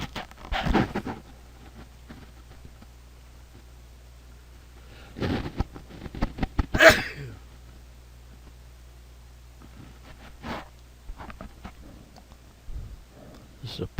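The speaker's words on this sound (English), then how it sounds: "This is a problem when you're recording and you have to sneeze, and for some reason or another I just had to sneeze." A man sneezes once, sharply and close, partway through, in a quiet room with him talking before and after.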